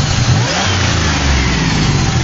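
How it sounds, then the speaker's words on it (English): A supercharged 2001 Grand Prix GTP engine revving loudly up close, a deep rumbling roar with a rising supercharger whine, steady over a couple of seconds. "rev it up a little bit for you. You hear the supercharger winding."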